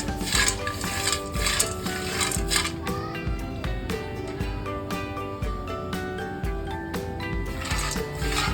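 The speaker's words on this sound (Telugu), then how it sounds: "ఫస్ట్ పల్లీలు వేయించుకోవాలి" Peanuts are roasted in a metal pan, stirred with repeated scraping and clinking strokes in a steady rhythm, close and fairly loud, with no talking.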